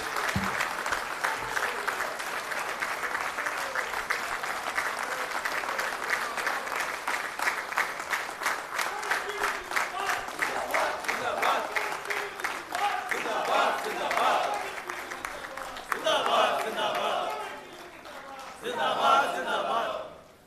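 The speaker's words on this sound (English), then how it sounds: "give a huge applause to welcome our dear General Secretary, Joint General Secretary, Comrade B. Sriniva" An audience at a farewell felicitation for a union general secretary claps in sustained applause, thinning near the end with a few scattered claps and brief speech.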